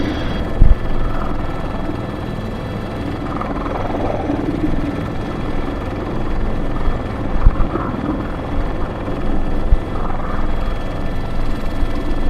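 An Airbus H125 helicopter runs at full power while lifting a load on a sling, its loud, steady rotor roar and engine drone filling the whole stretch up close.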